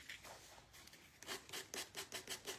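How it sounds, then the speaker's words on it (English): Sandpaper rubs the edges of a wooden Christmas ornament to round them off, a quiet run of short rhythmic scraping strokes that grows steadier and more regular toward the end, heard close with no talk. "just kind of sanding these edges"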